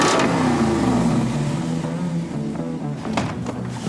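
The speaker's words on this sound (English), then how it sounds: "This roided up 392, it's enough to pull the sunglasses right off your head. This is a muscle car engine in a Jeep." A Jeep fitted with a 392 muscle-car V8 revs loudly nearby, its deep throaty roar rising and then falling back toward a rumbling idle, with faint noise toward the end.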